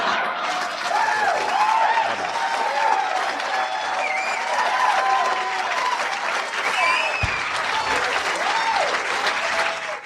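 A studio audience applauds comedian Pat Paulsen at a 1985 comedy television special, loud sustained clapping throughout with cheers and a few voices rising over the crowd.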